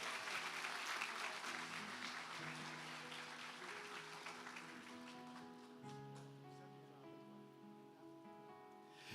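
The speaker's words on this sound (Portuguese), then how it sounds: "dá um aplauso bem forte" A church congregation applauds strongly, a dense steady wash of clapping that fills the space and slowly thins, while sustained organ or keyboard tones ring underneath and carry on as the clapping fades.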